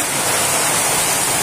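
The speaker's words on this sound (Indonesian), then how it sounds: "Hujannya deras banget." Heavy rain pours down steadily during a mountain cycling ride on the Cisadon trail, a dense, even hiss of rainfall that stays loud and close throughout, with no voices.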